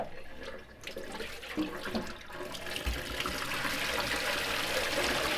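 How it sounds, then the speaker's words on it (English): Water running and draining from freshly rinsed green beans in a kitchen sink, a steady close splashing trickle that builds into a fuller continuous rush, with no one talking. "Alright, now we just gotta drain them out."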